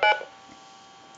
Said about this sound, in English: it's going to dial the number that we want back